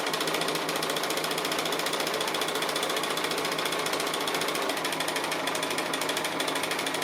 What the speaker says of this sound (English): I'm just going to be stitching close to the edge on the applique.